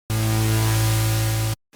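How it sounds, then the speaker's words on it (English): White noise from the noise oscillator of an Air Hybrid 3 software synthesizer plays as a loud, steady full-spectrum hiss with a faint underlying hum, then cuts off abruptly near the end. "white noise is a full spectrum noise, whereas blue noise is all high end."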